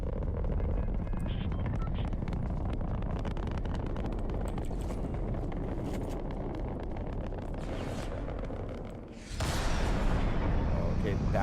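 A rocket launches in a video game with a loud, sustained roaring rumble that dips briefly before surging back into a powerful blast.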